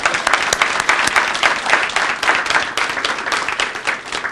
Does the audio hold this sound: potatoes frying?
no